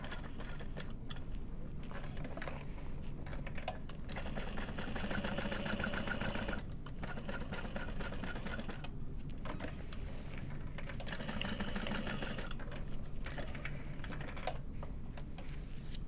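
A sewing machine stitches a handbag in rapid, steady runs of needle chatter broken by short pauses, close and moderately quiet with no talking.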